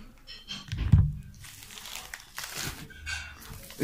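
A plastic bag rustles and crinkles as it is handled while unpacking a box of microphone and sound card gear, with a few close crunchy bursts and one thump near the start and lighter crinkling after.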